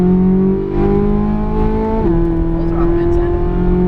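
A race car at full throttle on the Las Vegas Motor Speedway, its engine holding a loud, sustained droning tone that drops abruptly in pitch once partway through, like a gear change, then keeps pulling hard.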